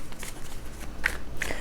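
Tarot cards are shuffled by hand in short soft riffles and slaps, a few quick papery bursts close by in a quiet room.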